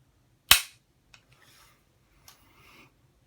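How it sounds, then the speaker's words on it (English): A suppressed CZ455 rifle is dry-fired indoors with no ammunition, making one sharp, loud metallic snap of the firing pin, then two faint clicks and soft handling rustles of the bolt. "now we're going to do a dry fire."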